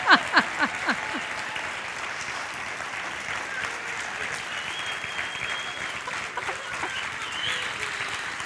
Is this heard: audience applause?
yes